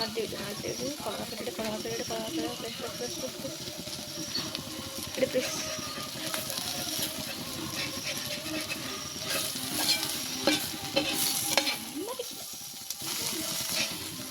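Chicken gravy masala fries and is stirred in a pan, a soft continuous sizzle and hiss with occasional scraping, heard close beneath people talking in a home kitchen.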